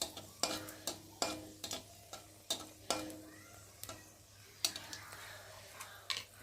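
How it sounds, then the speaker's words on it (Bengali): Dried red chilli powder fried in hot oil for a green tomato dish, with a soft sizzle and about a dozen sharp spoon scrapes and taps against the pan at an uneven pace, close by and with no one talking. "এখন আমি শুকনো লঙ্কা গুঁড়ো দিলাম, দিয়ে শুকনো লঙ্কাটা একটু ভালো করে ভেজে নেব।"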